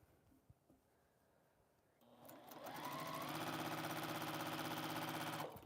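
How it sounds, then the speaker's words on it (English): Sewing machine stitching quilt pieces together, a few quiet handling clicks, then the motor starts and runs in a loud, steady, rapid mechanical hum until it stops near the end. "Sewing the fours together."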